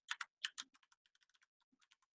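Fingers type quickly on a computer keyboard, producing about twenty quiet, close clicking keystrokes in an irregular, rapid rhythm, with no voices.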